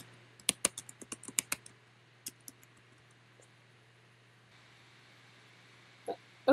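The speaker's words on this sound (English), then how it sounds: "Type in that address." Quick burst of computer keyboard keystrokes while an address is entered, about a dozen close, crisp clicks over roughly a second, then a few scattered taps and a quiet pause with a steady low hum underneath.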